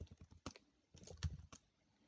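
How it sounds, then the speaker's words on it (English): Fingers type on a computer keyboard in a short, quiet burst of uneven clicks and taps, close by and without talk. "Let me actually type it in properly."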